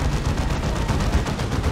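Bolter gunfire from a Warhammer 40,000: Dawn of War 2 3v3 battle, dense rapid automatic shooting with sharp repeated bursts rolling on continuously and loudly throughout, with no voices.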